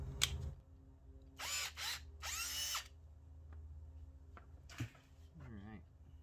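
An electric drill spins up in several short bursts, close by and fairly quiet, with brief pauses and light tool handling between them.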